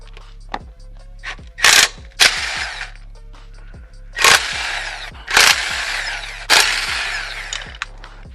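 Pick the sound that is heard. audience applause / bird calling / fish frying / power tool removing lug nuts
power tool removing lug nuts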